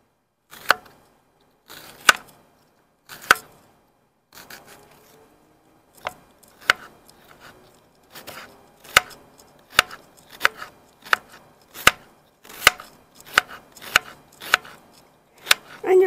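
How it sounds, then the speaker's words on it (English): Sharp, close knife chops on a cutting board as an onion is cut, with irregular single strikes at first that become a steadier rhythm of distinct knocks. "I'm just going to take time out to cut some onion."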